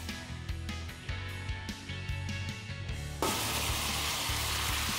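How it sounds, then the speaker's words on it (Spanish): Squid and bay leaf sizzle and fry in a hot pan, crackling steadily with a few clinks of stirring, then the frying jumps louder and hisses harder toward the end. "Le vamos dando vueltas, que se vaya friendo."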